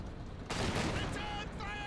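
An area barrage in the real-time strategy game Company of Heroes 2 begins with a sudden loud blast, then a dense rolling volley of explosions and gunfire, with faint whistling tones trailing after it.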